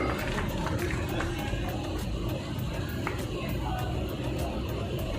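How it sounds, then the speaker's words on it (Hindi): A crowd applauds to welcome guests at a blood donation camp and water kiosk inauguration, a dense, steady wash of clapping that fills the whole stretch at moderate loudness, with scattered sharper claps and murmur throughout. "जोरदार तालियों से अभिनंदन करें हमारे अतिथियों का"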